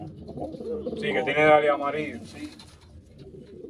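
A pigeon in a pigeon loft gives a soft, rolling coo, close by and fairly loud at its peak, while someone speaks over and around it.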